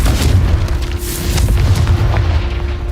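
The Confringo spell in Hogwarts Legacy erupts in a loud, sustained booming blast with a dense low rumble and a faint steady whine throughout, no voices over it.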